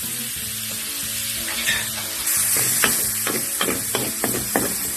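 Garlic and ginger sizzle steadily in hot oil in a pan for a Bisaya paklay dish, with scraping stirs and spatula knocks breaking through the constant frying hiss.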